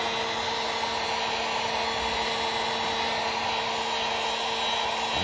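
Heat gun or hot air blower heating a damaged plastic car bumper during a repair, giving a loud, steady whooshing roar with a constant tonal hum that runs unbroken throughout.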